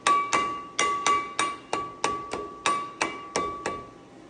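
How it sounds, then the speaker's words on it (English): Rubber mallet tapping dowel pins into a two-piece wheel adapter on a 2006 Toyota Tacoma 1 ton, about a dozen sharp ringing taps in a steady rhythm, each with a short metallic decay, close up and alone. "Just like to take a little rubber mallet and just kind of work those dowel pins on there."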